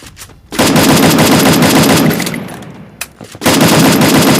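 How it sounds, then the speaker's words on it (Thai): Loud bursts of rapid automatic gunfire in Free Fire, a long sustained volley, a short pause with a single shot, then another burst. "เสียงปืนอยู่ข้างบน"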